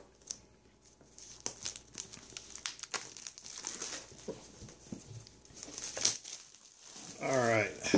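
Scraping, crinkling and tearing as an X-Acto knife slices through the shrink wrap and tape on a board game box, irregular close-up rustles and taps, ending in a louder burst of plastic crackle.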